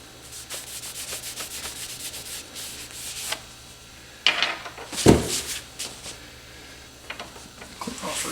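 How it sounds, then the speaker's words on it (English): Rag wiping excess off an arrow shaft after the field point is removed: soft, close rubbing strokes at a low level, with a couple of sharper swipes or knocks partway through. "Take a rag here, wipe off some of the excess."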